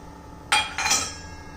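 Dough cut using the sharp edge of a steel plate for a Marathi fasting recipe, two bright metallic clinks in quick succession, close and clear, with no voices.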